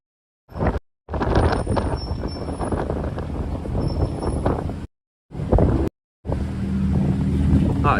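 Strong gusty wind on a very windy night in Miami roars into the microphone in long buffeting bursts, broken by brief silent gaps.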